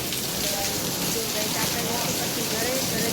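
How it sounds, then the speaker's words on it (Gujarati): Steady rain falls outdoors, a continuous dense hiss filling the whole stretch at even loudness, with no voices over it. "બહાર તો વરસાદ ચાલુ છે ફૂલ"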